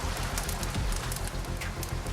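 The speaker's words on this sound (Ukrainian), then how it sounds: "слухаючи, як дощ барабанить по даху" Rain drumming on the roof of an old manor house, used as an audiobook effect: a steady patter of drops over a low rumbling background, fairly loud and continuous, with no speech.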